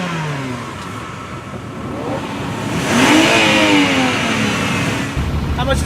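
A car engine at a drag strip revs up and falls back with a rising, surging growl, loud and fairly near over a noisy outdoor background, with a voice speaking briefly.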